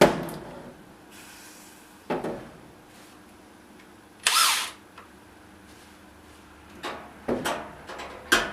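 A power drill runs in short separate bursts while driving a quarter-inch screw into a Whirlpool dryer, with clicks and handling noises between the whirs in a quiet room.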